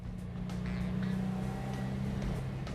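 Porsche 356 Convertible D flat-four engine running steadily, a low, even rumbling drone heard close and continuous without talk.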